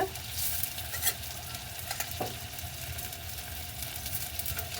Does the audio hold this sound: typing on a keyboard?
no